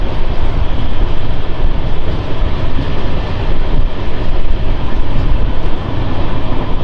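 Charlapalli Superfast Express, Chennai Central to Charlapalli, running past Tada border station: loud, steady rumble of wheels and carriage noise throughout, close and continuous with no talk.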